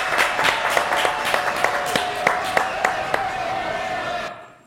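Audience clapping at a games and hypnosis show, a moderate burst of applause with a few sharper individual claps standing out, fading out at the end.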